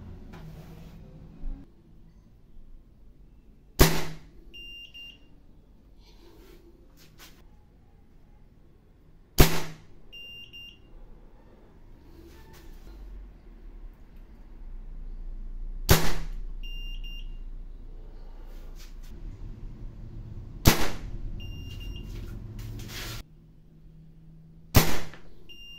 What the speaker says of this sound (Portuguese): Eu vou fazer os disparos aí.